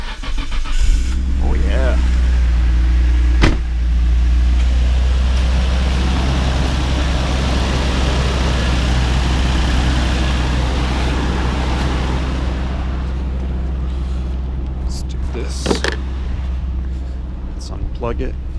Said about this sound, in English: let's try to crank it up and see if it starts